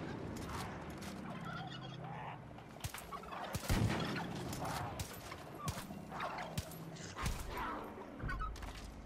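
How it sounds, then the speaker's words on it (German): A turkey gobbling in the video game Far Cry 5, several rapid warbling gobble bursts repeating over a busy game soundscape with occasional sharp pops. "Truthahn."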